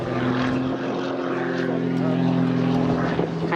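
A propeller aircraft performing aerobatic tumbles at an airshow, its engine drone holding a steady, strong buzz with wavering pitch as it maneuvers, continuous and moderately loud, with voices talking over it.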